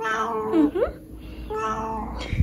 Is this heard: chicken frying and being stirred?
no